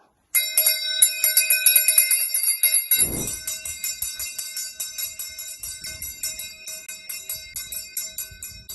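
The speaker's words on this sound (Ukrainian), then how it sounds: "Хай перший дзвоник задзвенить, розбудить всіх навколо." A ceremonial first school bell rings at a lyceum's opening-day ceremony, a bright, rapid metallic ringing that sounds loud and close before slowly decaying, with a soft thump partway through.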